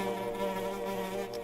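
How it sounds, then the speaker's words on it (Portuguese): A fly in a video game shown at a game showcase buzzes continuously, a close, droning whine that wavers slightly in pitch, with no talking. "os caras estão mostrando um jogo de mosca!"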